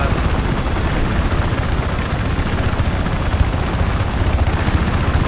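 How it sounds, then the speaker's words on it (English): Loud, continuous helicopter rotor thumping with a whining engine in the video game Battlefield 4, steady and close throughout. "I guess I'll just sit here until I get my 10 minutes in the chopper."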